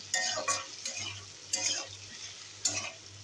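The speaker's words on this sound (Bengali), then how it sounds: "এগুলো নাড়তে থাকলাম" A spatula stirs curry in a large wok, giving quiet, regular scraping strokes roughly every second over a faint, low hum of cooking, with no voices.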